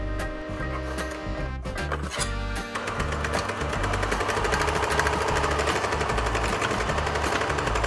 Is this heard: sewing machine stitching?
yes